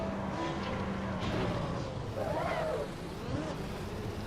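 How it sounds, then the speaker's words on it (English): A race car engine in the Assetto Corsa EVO racing game roars steadily and loudly for the whole stretch, with a brief rising pitch sweep midway and no talk on top. "The sound of that engine is just awesome."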